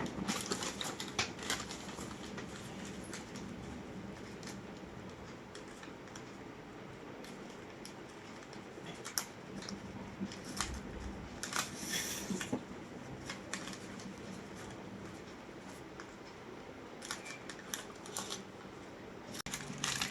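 A sewing machine runs steadily while stitching a cloth myani seam on a kachha garment, a continuous dense mechanical chatter lasting throughout with small clicks and knocks, close and fairly loud, with no talking.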